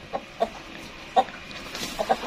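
Backyard golden misri chickens and a large crested rooster cluck in short, scattered bursts, near and moderately loud, with no speech over them.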